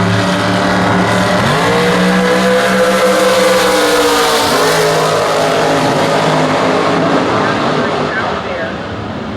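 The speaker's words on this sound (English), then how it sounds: "Troy driving the 2014 Phantom dragster." A 2014 Phantom dragster racing in Super Comp eliminations at the Gatornationals, with a loud sustained engine roar whose pitch sweeps upward before fading slightly, under a commentator's voice.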